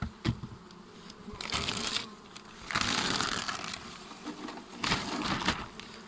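Honeybees swarm around an opened hive with feeders and an isolated queen, a steady close insect buzz that swells in louder waves with some handling rustles, and no talk.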